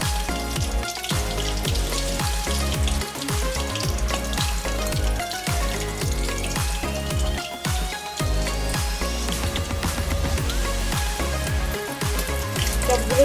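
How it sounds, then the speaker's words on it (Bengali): Shrimp cutlets deep-frying in hot oil, stuffed with raw shrimp inside. A loud continuous crackle and sizzle runs close throughout under steady background music, with no talking. "এই চপটা আরেকটু লাল লাল করে ভাজবো"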